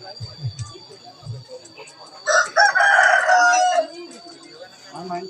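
A rooster crows once at moderate distance, a long strained call, with faint voices and ambient outdoor noise before and after.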